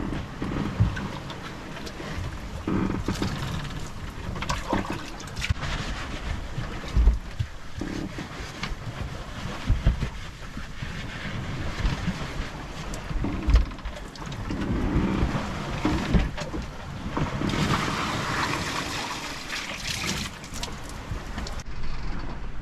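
A sailing yacht crossing the Pacific beats to weather, its hull pounding into waves under strong wind, with a constant rush of wind noise, water slaps and occasional creaking thumps from the rigging.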